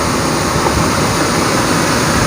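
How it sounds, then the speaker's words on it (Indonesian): Steady roar of falling water at the Kedung Maor waterfall in Temayang, a dense, unbroken rush that stays loud and even throughout, with no voices over it. "Ya, ini ada air terjun"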